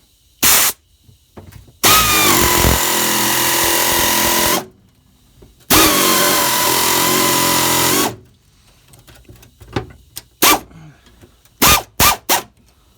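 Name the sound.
pneumatic air-powered cutter cutting car floor sheet metal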